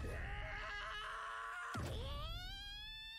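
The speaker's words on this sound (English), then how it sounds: "They're screaming into the night." Anime characters let out a loud, strained scream that breaks off and then rises into a long, sustained high-pitched wail over background music.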